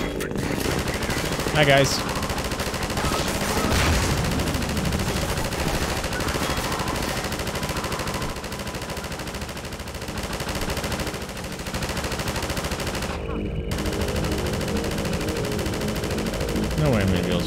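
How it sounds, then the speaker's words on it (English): Machine gun fire in the video game Half-Life 2, a loud dense continuous barrage that runs almost unbroken, with a brief gap near the end and a voice speaking over it. "That's what the freaking machine gun is for now."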